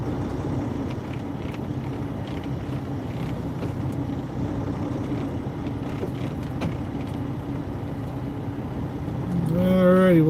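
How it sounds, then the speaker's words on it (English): A car creeping slowly down a road at about three miles an hour produces a steady low engine and road rumble throughout, with a short burst of a voice and a louder swell near the end. "We'll just keep gingerly driving down the road here at 3 miles an hour"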